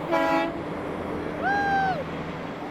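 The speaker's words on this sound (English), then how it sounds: "I'm getting horns to honk." Two car horn blasts from nearby traffic, a short honk followed by a longer one, over a steady road hum.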